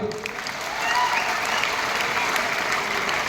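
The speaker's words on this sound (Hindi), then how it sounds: "एक बार हमारे सभी ग्रेट मेंटर्स के लिए जोरदार तालियां" Loud, dense applause from a large audience at a Safe Shop leadership event, a steady wash of many hands clapping that swells slightly after the first second and continues without pause.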